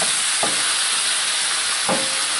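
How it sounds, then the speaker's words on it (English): Chicken and mushrooms sauté in a hot pan with a constant bright sizzle and hiss. Two brief scraping stirs break through the frying, one early and one near the end. "Let this saute another second or two."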